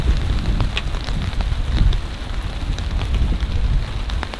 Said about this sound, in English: I hope you can hear me over this rain